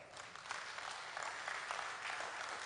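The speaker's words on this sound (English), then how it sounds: "So let's clap for ourselves." A small group of people clapping for themselves at a talk about work and exercise, steady dense applause lasting a few seconds, close and even, with no speech over it.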